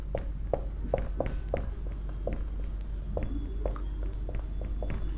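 Chalk or marker strokes on a classroom board during a Class 10 geometry lecture, a steady run of short tapping scratches over a constant low hum, close and clearly audible.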